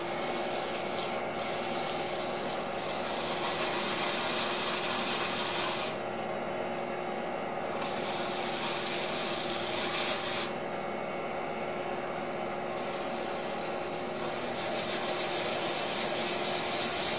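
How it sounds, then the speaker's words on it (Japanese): Sandpaper held against a spinning shaft on an old electric motor being built into a grinder, a steady, loud, close rasping hiss that briefly eases off twice and then resumes. "これでちょっとサンドペーパーをかけます。"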